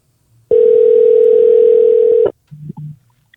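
A steady telephone line tone holds loud and unbroken for nearly two seconds, then cuts off, followed by a couple of brief faint blips as a call connects.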